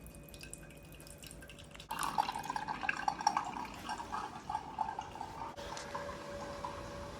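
Water from a hot water dispenser runs and drips steadily after a faint start, a continuous close splashing trickle with no voices.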